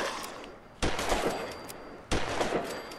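Gunfire in the video game Fallout 4: two loud, sharp bursts of shots about a second apart, each followed by rattling decay, over a steady game background.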